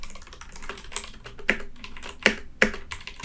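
Clicky typing on a hefty wireless Bluetooth keyboard with a USB-C port, irregular keystrokes with a few louder sharp taps, close up and with no talking.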